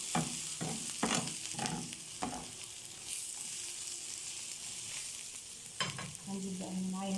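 Sliced onions wilt in a hot pan for shawarma, a soft continuous sizzle broken by several sharp stirring scrapes and knocks, close and fairly quiet, with no talking.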